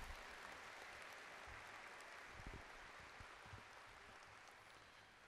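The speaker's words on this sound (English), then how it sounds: "Let's give them a round of applause for everything they do." A large crowd applauds steadily at a 2016 college commencement ceremony, a dense, distant wash of clapping that holds at an even level with a few low thumps.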